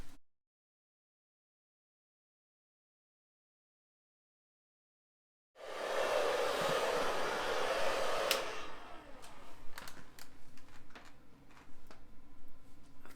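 Hair dryer with a diffuser drying curly silver hair, starting after several seconds of silence as a steady close airy whoosh, then growing choppier with intermittent bumps and rustles as the diffuser moves.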